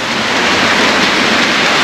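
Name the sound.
rain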